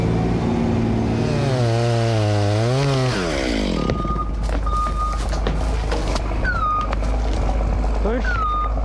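Chainsaw bucking cottonwood logs on a timber job, its engine revving up and down loudly at close range for a few seconds, followed by engine noise, scattered clanks and high beeps, with people talking.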